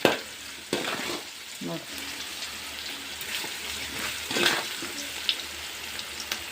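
Grated raw mango frying in a pan, giving a soft continuous sizzle with occasional stirring scrapes, and a brief spoken word at one point.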